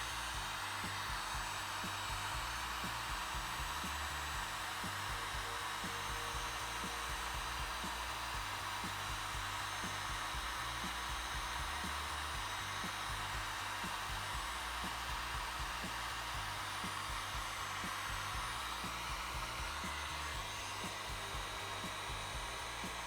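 A heat gun blows hot air onto an automatic transmission part of a Toyota Land Cruiser 80 Series, a steady, loud whooshing fan drone that runs without a break and with no talking over it.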